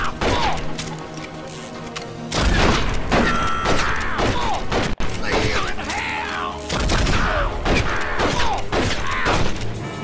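Gunshots and bursts of gunfire from the Western video game Red Dead Revolver, cracking repeatedly over game music and effects, with voices talking through much of the scene.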